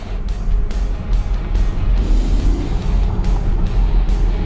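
A Ford Mustang and a Lucid accelerate hard from a rolling start at about 30 mph in a drag race, heard from inside as a loud, steady low rumble of engine and road noise with pulsing surges.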